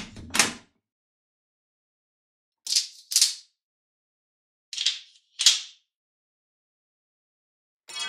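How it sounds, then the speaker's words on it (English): Creaking door sound effect built from an Omnisphere 2 synth patch: sharp, bright bursts, one near the start and two quick pairs later, each short and separated by silence, with a faint onset at the very end. "Just amazing what you can do with a simple door."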